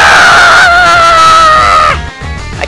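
A loud, drawn-out scream from the video game Sonic Colors on the DS, held for about two seconds before cutting off into game sounds.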